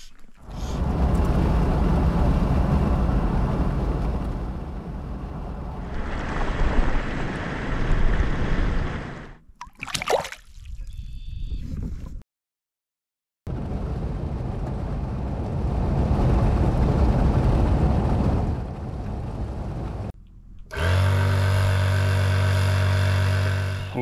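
Wind gusts steadily across an exposed lakeside, producing a loud, broad roar with heavy microphone buffeting. It drops out briefly near the middle, returns, and ends under a separate tonal hum.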